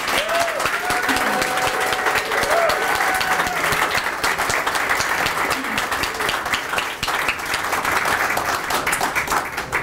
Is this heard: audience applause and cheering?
yes